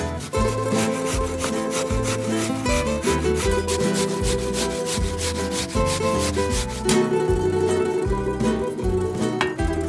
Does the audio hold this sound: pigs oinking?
no